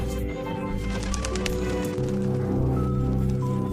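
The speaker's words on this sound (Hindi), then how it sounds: "तभी रात में तेज बारिश शुरू हो जाती है।" Heavy night rain in a Hindi cartoon falls as a steady, dense wash of patter, loud and continuous throughout with no speech.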